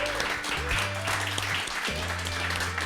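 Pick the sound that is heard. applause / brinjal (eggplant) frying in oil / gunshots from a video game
applause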